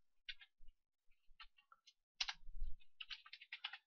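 Typing on a computer keyboard at a command prompt, a close sequence of crisp key clicks in short irregular bursts with brief pauses, becoming a quicker run of taps toward the end.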